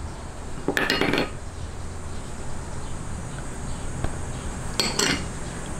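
Dry ingredients for ube puto, including sugar, baking powder and salt, are stirred in a bowl, with two short bursts of utensil clinking against the bowl over a quiet background hum.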